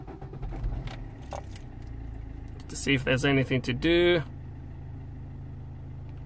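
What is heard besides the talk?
Vauxhall Opel Corsa D engine starting and idling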